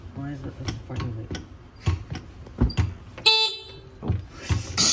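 A car horn sounds in a short blast near the middle, surrounded by clicks and bumps from the vehicle's controls and people talking.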